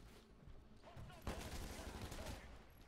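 Rapid gunfire bursts from the Titanfall video game during an Attrition match on the Demeter map, dense and continuous with a sharper burst midway, mixed with game noise and a voice talking.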